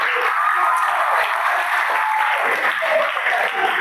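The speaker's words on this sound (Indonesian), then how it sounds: "Tepuk tangan untuk Stupa" A crowd at a Maulid Nabi religious gathering claps for a speaker, with steady, dense applause that stays fairly loud throughout.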